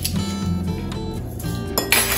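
A teaspoon tips mustard seed into a jar of carrots being preserved, making several light, close metallic and glassy clinks and taps, with a brighter clatter near the end and no talking.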